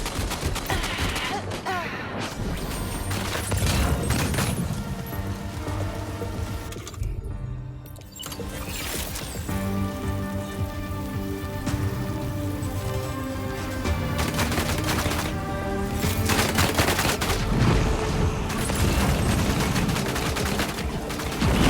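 Gunfire in the video game Death Stranding 2, with dense bursts of automatic fire and rapid shots crackling loudly and continuously. The shooting pauses briefly midway, then resumes over background music.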